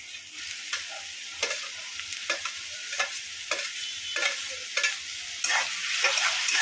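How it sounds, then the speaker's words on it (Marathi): Onion and tomato frying in oil in a pan for paneer bhurji, with a steady sizzle broken by repeated scraping stirs of a spoon at a regular rhythm, close and clear with no voices. "आता कांदा टमाटर मस्त भाजू द्यायचा तेलामध्ये"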